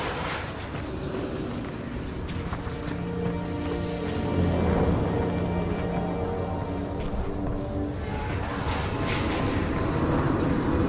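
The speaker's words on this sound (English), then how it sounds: "at the start of the crash, we used the sounds of train cars piling up in the distance" In Half-Life: Alyx, train cars pile up in the distance as a long, rumbling metallic roar of grinding and rolling carriages, swelling and persisting with a sustained low drone for the full stretch.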